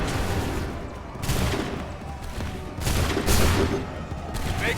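Musket volleys fired by ranks of soldiers on an Assassin's Creed III battlefield, several ragged bursts of loud, crackling gunfire rolling out over a constant roar of combat noise.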